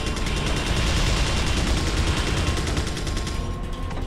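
Heavy, continuous gunfire in Resident Evil 4 on PS2, a dense barrage of rapid shots close and loud throughout, with no voices over it.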